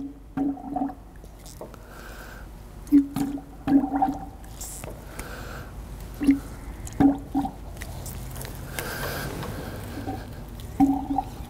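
Wet squishing and squelching of brake fluid as a brake master cylinder for a GMT400 truck is bench bled, in soft, uneven pumps with gurgles at close range.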